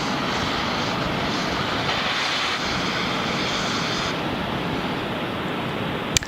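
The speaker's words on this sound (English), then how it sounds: "the 9 Merlin 1D engines will ignite. Once they're at full power, Falcon 9 will lift off the pad and begin its climb to orbit." At a Falcon 9 liftoff, the Merlin 1D engines give off a loud, continuous roar, a dense and rumbling broadband wash that holds steady throughout, with no voices heard.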